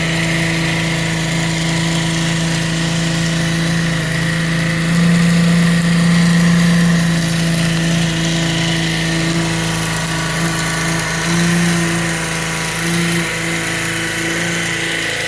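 Pump generator driving a regulated power supply, a steady electrical hum with drone tones that shift slightly in pitch, continuous and close.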